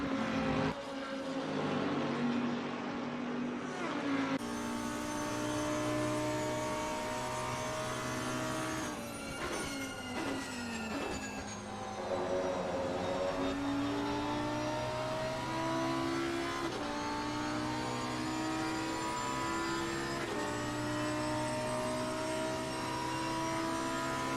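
GT3 race cars lapping Monza in a racing simulation, including a Bentley and a Lamborghini, with whining engine tones rising and falling through gear changes, several cars layered close together, loud and continuous.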